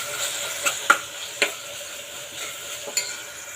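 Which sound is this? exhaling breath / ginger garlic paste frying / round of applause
ginger garlic paste frying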